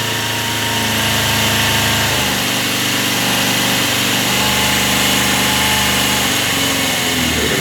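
A Yamaha YZF600R Thundercat motorcycle engine idles on choke, a loud, steady, close-up burble with an uneven low pulse that rises slightly as revs pick up near the end.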